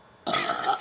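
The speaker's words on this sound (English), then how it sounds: "I can burp on command" A single short, close burp, produced on command, erupts after a brief silence and holds for about half a second.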